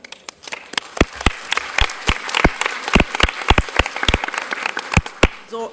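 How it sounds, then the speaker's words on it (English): Sparse, uneven clapping from a small group at a school board meeting, individual claps distinct and irregular, with some murmuring voices underneath. "We'll give you all a big round of applause."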